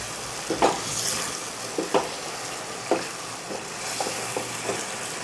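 Kasuri methi is stirred into sizzling chicken karahi, steady frying hiss broken by about seven distinct scraping strokes of the spoon against the pan at a loose, unhurried rhythm.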